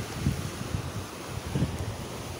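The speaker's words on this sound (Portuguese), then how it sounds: "Ficar aqui só nesse mar, sentindo essa brisa" Sea breeze and surf at the Marco Zero seafront promenade by the breakwater stones, heard as a steady low wash of wind and water with soft swells rising and falling, no voices.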